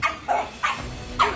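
Dogs bark in three short, separate yaps spaced evenly apart, moderately loud and close, over faint background noise.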